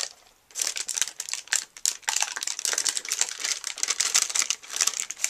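Wax paper peels up from a crafted LED candle with a steady run of close, crisp crinkling and crackling bursts and no voices.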